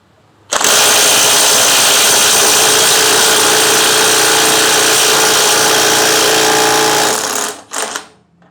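A Bosch GDS 18V-400 cordless impact wrench runs in one long, loud, continuous burst for about seven seconds, close by, then gives a short final pulse before stopping.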